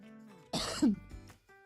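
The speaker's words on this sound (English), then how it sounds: "Excuse me, guys. I just need to cough." A single rough cough with a throaty rasp, close and fairly loud, followed by a brief breathy sound and quiet.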